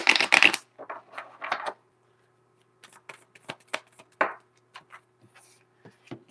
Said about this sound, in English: One shuffle and we'll get to it.